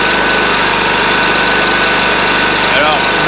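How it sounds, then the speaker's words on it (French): A diesel engine on a farmer's hybrid diesel/petrol-electric vehicle is left running, giving a loud, steady, dense rumble with a faint regular throb that fills the whole stretch without letting up. "on est obligé de laisser le moteur tourner"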